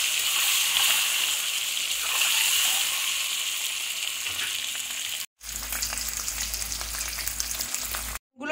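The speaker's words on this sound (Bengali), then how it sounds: "এবার ডিমগুলোকে আমি ভেজে নেব।" Eggs fry in hot mustard oil in a wok with a steady, crackling sizzle that runs throughout, briefly cutting out twice near the end.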